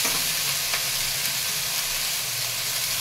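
Dheki shak greens hit hot oil in a pan with kalo jeera and chili and fry with a steady, dense sizzle that stays loud and even throughout with no talk.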